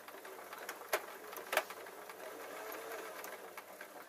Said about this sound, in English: I will sew to the point